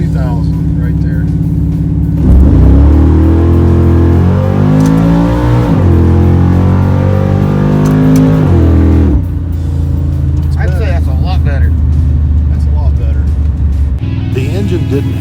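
Chevrolet Malibu engine revving hard and steady for several seconds while held on the foot brake in a stall test, then dropping back to a lower idle rumble, with someone talking over it near the end.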